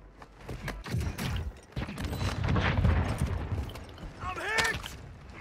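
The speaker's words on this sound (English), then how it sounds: "Somebody else is shooting me." Warzone 2.0 gunfire: a scatter of distant and mid-range shots and impacts runs throughout, mixed with thuds and game noise. No voices are heard.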